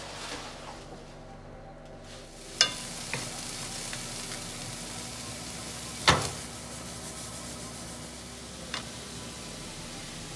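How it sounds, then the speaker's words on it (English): Onions and garlic sautéing in a pan with spinach cooking nearby, a soft steady sizzle close by, broken by a few sharp clicks and knocks of a utensil, no talking. "we're gonna saute the onions and the garlic"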